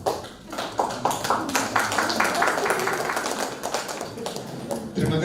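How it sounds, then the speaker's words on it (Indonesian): Audience applause at a national seminar on special-needs children, a dense burst of many hands clapping that fills the room for several seconds, loud and close, with voices mixed in. "Tepuk tangan buat yang waras."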